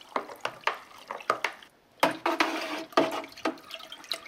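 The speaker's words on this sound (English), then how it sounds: "And when you stir it around," Fermented wash being stirred in a vessel to release dissolved carbon dioxide for home distillation, giving repeated sloshing, swishing liquid strokes at close range, fairly quiet, with a short pause midway and no talking.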